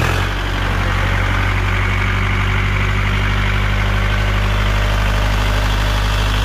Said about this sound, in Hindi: अब जो है ट्रैक्टर को स्टार्ट करके आपको इसकी आवाज़ सुनवाते हैं